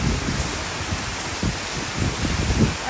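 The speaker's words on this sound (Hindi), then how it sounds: "ये देखिए गाइस कितनी तेज बारिश आ रही है" Heavy monsoon rain pouring down outdoors, a dense steady hiss of broadband noise with no break and a few faint low thumps, loud and close throughout with no voices.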